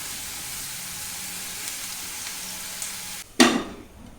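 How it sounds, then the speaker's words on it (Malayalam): Sliced onions, dried red chillies and salt sauté in hot oil with a steady crackling sizzle, then a sudden loud clatter of a utensil stirring the pan bursts in near the end. "ഒരു ലൈറ്റ് ബ്രൗൺ കളർ ആകുന്നവരെ ഇത് വഴറ്റുക"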